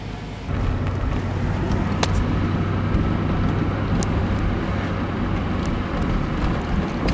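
A 1993 Cadillac Fleetwood idling at a standstill, a steady low rumble that holds evenly for several seconds, with a couple of faint ticks over it and no talking.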